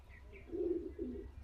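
A male Direkana pigeon from Andhra Pradesh gives soft, low cooing in two short swells, close and alone with no talk.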